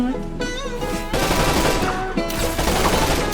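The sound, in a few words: gunfire in the video game Knights of the Deep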